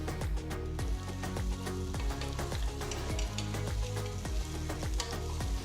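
Large onion wedges sizzle steadily in hot oil with chopped garlic and ginger, a loud continuous frying hiss broken by repeated stirring clatters, with no voices.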